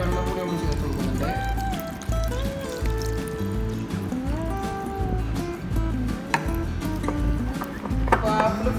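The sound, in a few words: water poured over green apples for pickle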